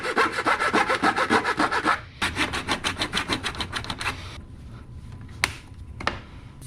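Sawing through an intercooler hose end during a MINI Cooper S R56 front-mount intercooler install: close, loud, rhythmic back-and-forth rasping strokes for about four seconds, then a pause and a couple of light knocks.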